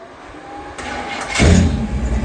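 A 1954 GMC rat rod truck with a big block engine cranks over and catches, rising from a starter whir into a loud, rumbling idle close by, with no talking.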